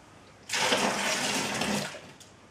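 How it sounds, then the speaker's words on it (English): Hot tap water pours into a homebrew container for a German pilsner kit, a close, loud, rushing splash that starts abruptly, holds for about a second and a half, then tapers off. "The next step is adding an additional 1 liter of hot tap water."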